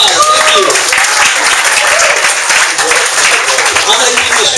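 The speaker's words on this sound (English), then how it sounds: "Give yourselves a big round of applause" Audience applause at a business networking chapter launch event, a dense, loud wash of clapping filling the whole stretch with some voices mixed in.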